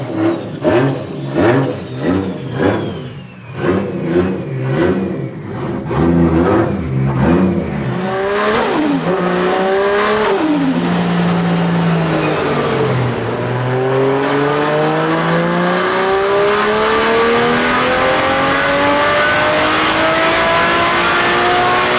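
A Toyota MK2 with a 1.5JZ engine running on a dyno at about 12 psi of boost, loud and close, blipping in short bursts before rising and holding at high revs with a sustained roaring whine.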